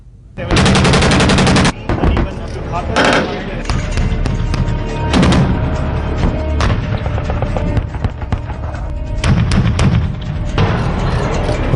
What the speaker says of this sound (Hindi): टैंकों ने रणक्षेत्र में ऐसे गोले बरसाए कि दुश्मन खेमा हिल जाए